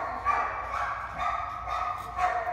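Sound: puppies barking at an animal shelter

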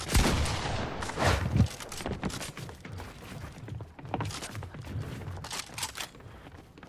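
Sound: shotgun gunfire in a video game

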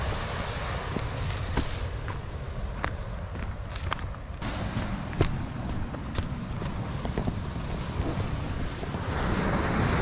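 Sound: waves on the shore at Burning Palms Beach, Australia

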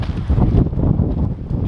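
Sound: wind blowing into the microphone outdoors

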